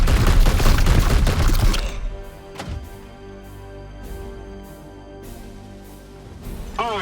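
Rapid gunfire bursts loudly in the Warhammer 40K: Chaos Gate video game and then cuts off. Booming thuds follow, with a lingering electronic hum and a sharp tonal sweep at the close.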